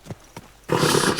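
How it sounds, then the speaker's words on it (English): Horse in the game Kingdom Come Deliverance 2 gives a loud, close neigh that bursts in after a couple of soft hoof knocks and carries on for about half a second. "Easy, good horse."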